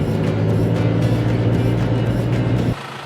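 A 4x4 towing a camper trailer drives along a rough high-country track, a loud steady engine drone with rumbling road noise that cuts off abruptly near the end.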